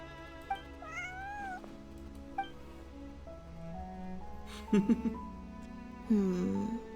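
Several short cat meows sound at intervals in Genshin Impact over a quiet background hum, the last two louder and more drawn out.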